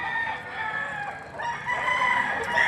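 Young roosters crowing at a livestock auction market in Padre Garcia, Batangas, with overlapping drawn-out crows from several birds close by and some clucking under a busy background.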